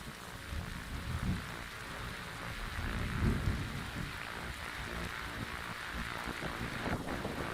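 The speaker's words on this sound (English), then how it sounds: "the storm is dying out" Steady rain and rolling thunder from a thunderstorm in the video game The Darkside Detective, a soft continuous downpour with low rumbles swelling and subsiding, with no talking.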